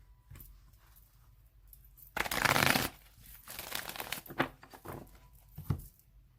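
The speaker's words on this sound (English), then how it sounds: "shuffle one more time, and then I'm going to cut it" Tarot cards are shuffled by hand, with a burst of riffling and then several softer shuffling taps and patters, close and quiet, with no talking.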